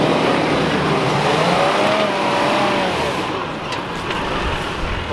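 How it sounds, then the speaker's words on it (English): A V8 four-wheel-drive rig revs hard as it crawls up a steep, rough track, a loud sustained engine note rising and dipping, then fading somewhat toward the end. "it's just a pleasure to do so while listening to the mighty V8 in Keith's rig"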